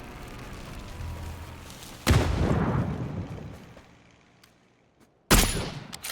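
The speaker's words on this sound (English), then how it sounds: "That sounds like a blue zone bomb." Blue zone bombardment in PUBG: Battlegrounds, two sudden loud explosions, the first rumbling and fading over a few seconds, the second cracking sharply near the end, over quiet game ambience.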